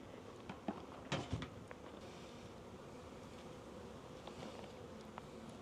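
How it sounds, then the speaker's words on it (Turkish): A wasp buzzes faintly nearby, with a few soft knocks and taps early on and a steady quiet background hiss. "Bak geldi eşek arısı."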